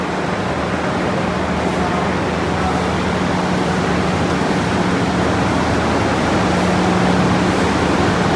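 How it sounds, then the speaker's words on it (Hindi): A water spray system runs at a village cow farm, making a steady, loud, broad hiss that fills the whole stretch with no break and no voices. "और ये जो वाटर स्प्रे भी साथ साथ हो रही है"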